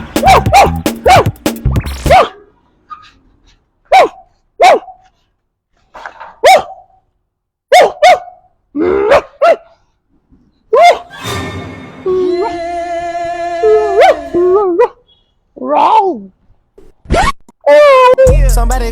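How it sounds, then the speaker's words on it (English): Dogs bark loudly and close in a compound, with sharp repeated barks spaced by short pauses, then a longer stretch of drawn-out whining yelps before more barking. "We have dog in our compound."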